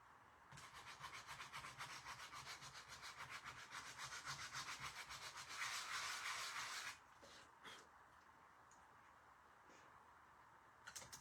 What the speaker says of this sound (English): So I just sanded